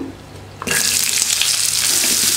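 Whole spices, star anise, cloves, curry leaves and a large onion hit hot oil with a sudden loud burst of frying after a quiet start, then a steady dense sizzle for the rest.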